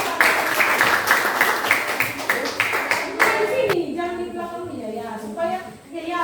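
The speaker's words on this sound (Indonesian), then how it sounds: "Tepuk tangan" A group of students claps for a classroom group presentation, a burst of several seconds of hand claps that thins out and gives way to voices talking.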